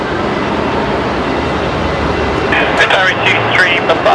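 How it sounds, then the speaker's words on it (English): An Alliance Airlines Fokker 100 jet taxis at Brisbane Airport with a steady, loud engine roar. A faint radio-like chatter joins toward the end. "one of the Alliance Fokker 100s just taxiing on by"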